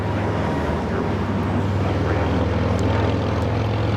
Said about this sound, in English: This is Spirit Airlines 627 taking off to Kansas City on the A320neo